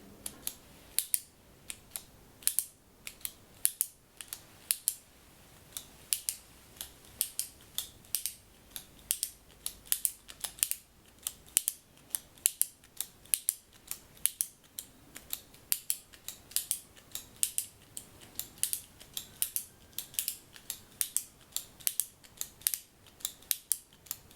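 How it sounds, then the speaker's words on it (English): A pen clicks over and over in a quiet room, crisp close-up snaps that come singly and in quick pairs and bursts at an irregular pace, with no talking. "first of all is the clicking of the pen."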